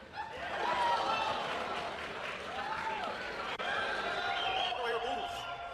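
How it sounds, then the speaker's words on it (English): Crowd at an awards night booing a streamer presenter, a broad sustained wash of jeering voices with some drawn-out boo tones and scattered laughter, somewhat distant and muffled. "Why do I hear boos? I hear a lot of boos."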